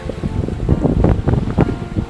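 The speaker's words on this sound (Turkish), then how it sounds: "güzel bir rüzgar yakaladık" Wind buffeting a microphone on a sailboat under sail with the engine off, between Folegandros and Sifnos, a steady gusty rumble with low thumps and sloshing, no voices.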